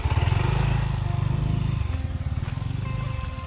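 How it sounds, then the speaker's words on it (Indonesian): A motorcycle engine runs close by with a loud, rapid, throbbing low pulse that holds steady for a few seconds before easing slightly. "Mas ada motor belakang."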